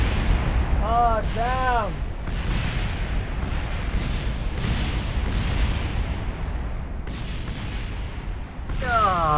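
Repeated booming cannon rounds firing in the game Kerbal Space Program, heavy bursts spread across the stretch amid dense rumbling noise, with someone briefly speaking and exclaiming over them.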